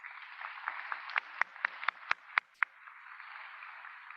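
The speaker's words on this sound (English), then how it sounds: "Let's give Dr. Williams a round of applause" Audience applause at an ODU new student convocation, heard thin and muffled like a broadcast feed, with a steady wash of clapping and several sharp, distinct claps standing out midway before it settles.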